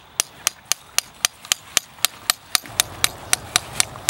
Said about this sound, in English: Step two, use a pounder to insert the spile into the hole.